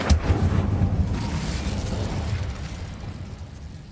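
An Incendio fire spell in Hogwarts Legacy bursts with a deep, loud whooshing boom up close, its roaring flame rumble swelling briefly and then fading away over a few seconds.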